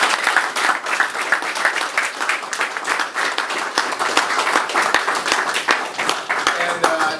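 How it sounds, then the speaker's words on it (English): Audience applauding Chief Donald Harrison Jr. at a New Orleans gathering, brisk, close clapping with distinct sharp individual claps over a steady bed of applause, with some voices mixed in. "Give him a round of applause."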